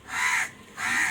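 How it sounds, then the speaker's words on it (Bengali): Crows caw twice, two loud, harsh calls close by, each about half a second, with a short gap between them. "কাকগুলো কেমন ডাকছে দেখো"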